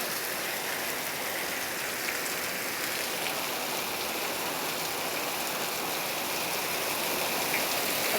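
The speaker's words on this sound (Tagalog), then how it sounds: "so super lakas ng ulan" Heavy, steady rain pours down in a continuous dense wash of hiss and patter, loud and close throughout with no break, and no voices are heard.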